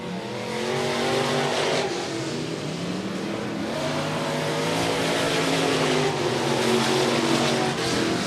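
Stock cars racing on an oval track, several engines roaring together in a continuous loud drone with rising and falling pitch as the pack passes, heard from the grandstand area.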